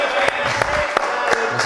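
An audience applauds in a studio, a thin, sparse patter of claps with a few louder individual hand claps standing out in a short burst.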